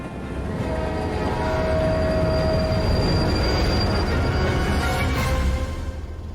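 A train rumbles along steadily, loud and close, with long metallic squeals and tonal whines from the wheels over the constant roar.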